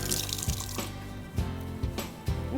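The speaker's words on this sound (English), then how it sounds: "Rinse my fingers off." Running tap water splashes steadily as fingers are rinsed under a kitchen faucet, a close continuous rushing wash with small irregular splashes and no talk.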